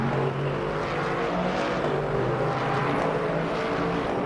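Race cars in a Le Mans Ultimate replay, their engine drone steady and fairly subdued rather than loud and growling, a continuous low hum with no talk over it.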